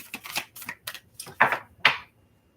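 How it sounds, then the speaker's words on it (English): A deck of tarot cards is shuffled by hand in a quiet room, giving a string of short papery riffles and slaps in uneven bursts, the last two louder and longer; no voices are heard. "this is our last shuffle"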